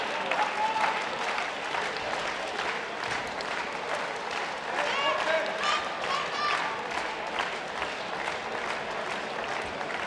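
Sustained audience applause from a large crowd at a wrestling match, loud and continuous, with some cheering voices mixed into the clapping.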